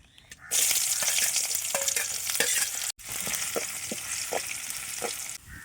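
Steady loud sizzling of chopped onions frying in oil, with scraping stirs throughout and a brief break midway, no voices.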